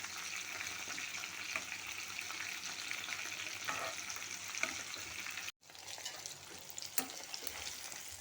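Prawns for koliwada sauté in a pan with a constant crackling sizzle and occasional stirring scrapes, broken by a very short silent gap before the frying resumes.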